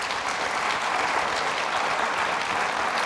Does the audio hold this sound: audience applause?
yes